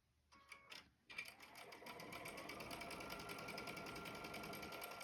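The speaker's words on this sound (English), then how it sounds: "I'll put these, just like we did in the past, right sides together, stitch down this line." A sewing machine stitches quilt squares placed right sides together, starting after a few short bursts and then running in a steady, close, continuous whir.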